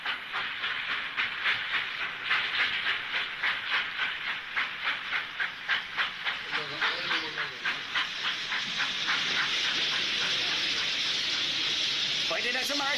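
A cartoon steam train chugs steadily with rhythmic puffing bursts and hissing, then gives way to a continuous hiss of steam with faint clatter in the background.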